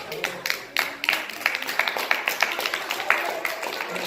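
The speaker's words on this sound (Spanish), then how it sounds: "Dale un aplauso al Señor." A church congregation claps in praise, a fairly close, irregular patter of hand claps that builds into a steady rhythm, with some voices mixed in.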